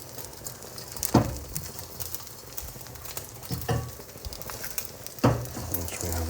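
An egg fries in a pan for special fried rice, a continuous soft sizzle broken by three sharp scraping or spatula clatters spaced a few seconds apart.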